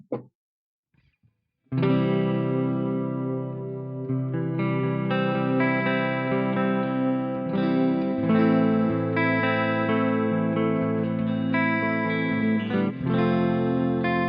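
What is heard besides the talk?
Epiphone Les Paul Standard 2005 guitar, clean tone, neck pickup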